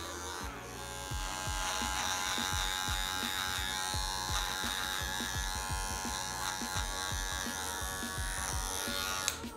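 Electric hair clipper fitted with a 1.5 guard trims a beard into a vertical fade, buzzing steadily and close for the whole stretch, with short strokes clicking through the hair in a loose rhythm and no talk.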